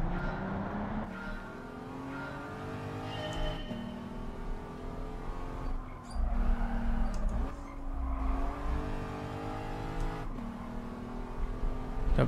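A race car in Gran Turismo 7 revs hard through repeated gear changes, its engine pitch rising and dropping several times, loud and continuous, with brief tire skids.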